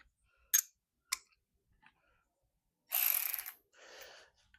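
Ratchet driving a 19 mm socket on carriage bolts of an old trailer: two short sharp clicks, then a loud dense burst of ratcheting followed by a softer one, close up in a quiet space.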